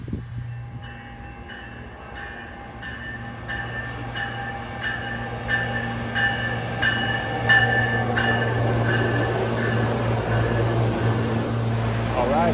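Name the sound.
RTD commuter rail train arriving at station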